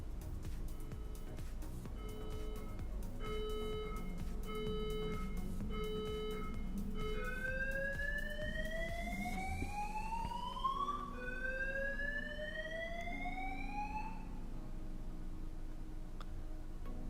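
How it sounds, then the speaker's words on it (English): Fire alarm undergoing a test inside an apartment, a loud electronic tone that beeps in a steady repeating pattern and then rises into long upward-sweeping wails, continuous and close throughout. "they're going to test out the fire alarm in my place"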